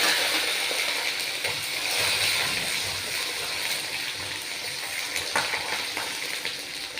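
Peeled onions hit a hot pan for a homemade thuvaiyal, giving a steady, loud, broad frying sizzle that holds evenly for several seconds with no voices.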